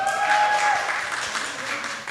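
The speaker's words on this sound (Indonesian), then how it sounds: "Tepuk tangan dulu buat Mas Ali." Brief applause from an audience in a talk setting, a short, moderately quiet patter of clapping hands that thins out within about two seconds.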